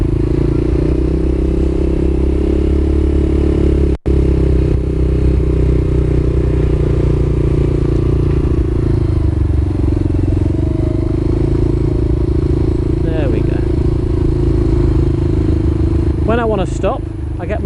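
A motorcycle makes a slow turn in first gear with the clutch slipping, its engine a steady, even drone that changes little throughout, while someone talks over it near the end.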